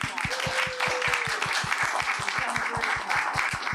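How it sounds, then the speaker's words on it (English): An audience claps for a library's Friends board members at a tenth-anniversary celebration, a steady, fairly loud rhythm of individual claps in even beats throughout, with a faint voice and bright crowd hiss behind. "the rest of the members of the Friends of the Library Board really should be applauded"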